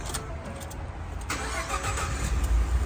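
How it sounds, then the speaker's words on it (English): A 2013 Ford F-150 Platinum 4x4 pickup engine with 161k miles cranks and catches, then settles into a steady rumbling run, close by and fairly loud with no talking. "Oh yeah, fires right up."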